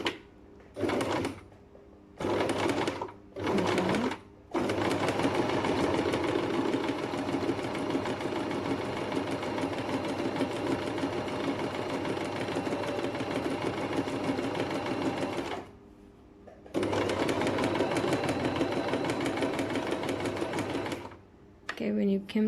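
A sewing machine runs a reverse stitch at the start of a seam in several short bursts, then one long steady run of rapid needle chatter, a pause, and another sustained run, close and loud with a little talk in between.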